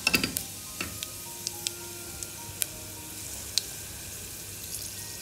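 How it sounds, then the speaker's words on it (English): Dry spices sizzle gently in hot oil for khichda, a faint steady crackle with scattered small pops and clicks, no voices. "Let it sizzle."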